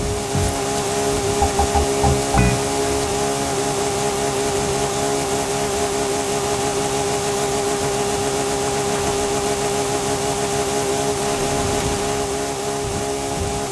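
A Ferrari P4 racing engine in a video game drones at a steady high pitch, a loud continuous buzzing tone with a brief surge near the start and no talking.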